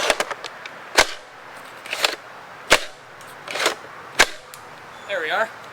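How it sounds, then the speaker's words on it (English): An Xploderz X2 Invader 700 toy blaster shoots at a tree from 20 feet away, giving several sharp, separate snapping shots spaced about a second apart, with softer knocks and rustles between them outdoors. "Now I'm going to try shooting a tree from 20 feet away."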